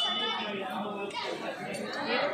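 A crowd murmurs at a decorated Hindu temple on Hanuman Jayanti, a dense, continuous wash of overlapping voices heard close around the listener with no single speaker standing out.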